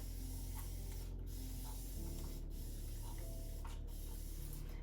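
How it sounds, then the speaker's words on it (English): Steady, continuous hiss of a spray bottle misting the back of someone's locs during hair retwisting, close and fairly quiet, with a few brief breaks in the spray. "So I'm going to spray the back of my hair."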